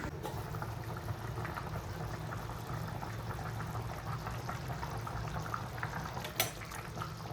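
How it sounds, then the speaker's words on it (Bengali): Water bubbling at a steady boil in a covered cooking pot on a gas stove, with chicken and potatoes simmering in curry, a continuous dense close rumble with one brief sharper clatter near the end. "ফুটে গেছে জল, গরম জল দিয়েছি না, তাড়াতাড়ি ফুটে গেছে।"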